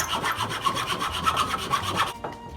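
A blade cuts an incision into a wooden flute with quick, rhythmic rasping strokes, close and fairly loud, stopping abruptly near the end.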